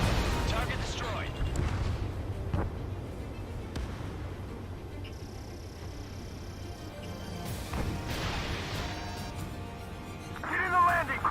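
Battle gunfire and artillery in Ace Combat 7, distant booms and crackling shots under a dense rumble of combat noise, with voices talking over the fighting.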